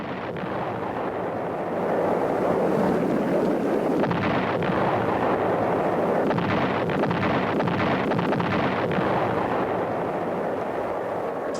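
Nearly a hundred B-52 bombers dropping high explosives on the Chu Pong massif in the Vietnam War: a loud, sustained roaring rumble with wind-like noise that surges and dips but never breaks.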